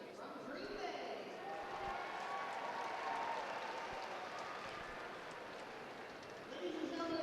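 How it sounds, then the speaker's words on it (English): A wrestling crowd at the WIAA state individual tournament applauds the officials, a steady spread of clapping throughout the arena with a public-address voice speaking over it. "let's give all of these officials a big round of applause"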